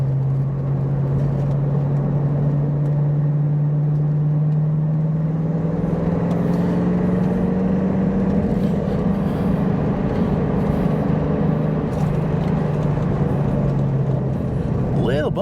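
Old Ford Mustang with handling modifications driving down a curvy, bumpy hill road at a good pace, its engine droning loudly and steadily from inside the car, the pitch slowly rising and falling, with someone talking over it.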